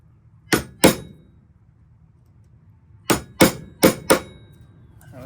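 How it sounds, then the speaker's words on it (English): Sharp metal hammer strikes punching pins out of a Camillus pocket knife on a drill press base: two blows, a pause, then four quicker ringing hits, close and loud. "we're going to try to go over here on the little base of the drill press and punch all 3 pins out."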